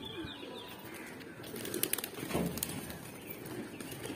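Pigeons on a house rooftop flapping their wings, a brief flurry of wing beats midway over steady outdoor background noise, with faint coos and chirps around, fairly quiet and no speech.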